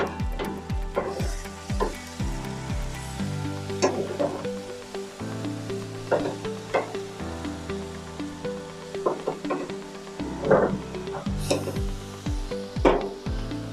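Pork chops sizzle steadily on a Masterbuilt Gravity Series 560 charcoal grill, with close scrapes and knocks from the utensil as they are flipped, the frying hiss running continuously under the handling noises.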